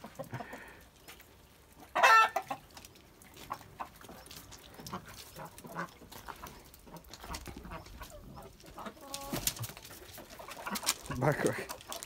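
Wyandotte and Brahma roosters cluck and squawk in a coop, with a sharp loud burst early, scattered nearby calls, and another raised flurry near the end.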